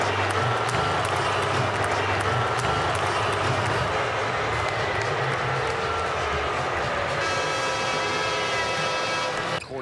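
An NBA basketball arena crowd roars steadily for Jimmy Butler, a dense, loud wash of cheering and mixed boos that stays full throughout with no clear gaps.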